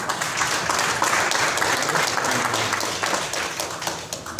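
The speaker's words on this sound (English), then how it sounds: "Big applause for you." Sustained applause from an audience at a social entrepreneur of the year awards event in India, broad and steady throughout, with a faint voice underneath.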